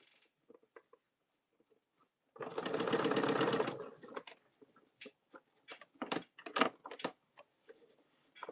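Sewing machine stitching ribbon onto a cosmetic bag, one steady burst of rapid mechanical stitching lasting about a second and a half, followed by scattered clicks and handling noises.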